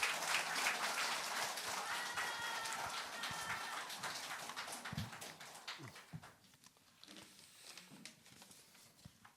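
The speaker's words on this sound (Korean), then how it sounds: "여러분 큰 박수로 맞아주시기 바랍니다" An audience at a party candidates' joint speech rally in Imsil claps to welcome the first speaker, a dense, fairly quiet patter of hands that gradually thins out into scattered claps.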